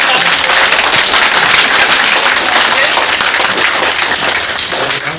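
A big crowd at a political gathering claps loudly and continuously, a thick, roaring wall of applause that fades slightly near the end, with voices mixed faintly into it.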